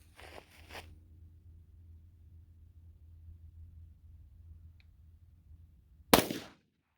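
A single sharp report from a Glock 33 pistol firing .357 SIG Underwood 124-grain JHP rounds, loud and close near the end after a stretch of low rumble, ending abruptly.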